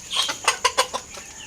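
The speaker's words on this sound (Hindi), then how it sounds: "मुर्गा और मुर्गी बाहर गिली रोटियां खा रहे हैं" A rooster and hens cluck outdoors as they eat wet rotis, giving a run of short, bright clucks in quick bursts, close and fairly loud, with no talking.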